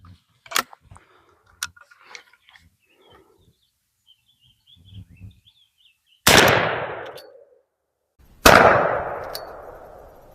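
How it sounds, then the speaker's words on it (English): A Stevens 301 .410 shotgun, 3-inch chambered with a 26-inch barrel, fires Troy 2.5-inch game loads of #7.5 shot: two loud, sharp reports a couple of seconds apart, each ringing out in a long decay, after faint handling noises. "let's shoot these Troys from 15 yards at our 12-inch bullseye target"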